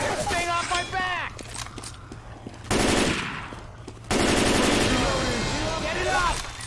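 Automatic gunfire in the video game Left 4 Dead 2 on the Dead Center streets level, with loud, rapid bursts that stop and start, mixed with voices talking in the game.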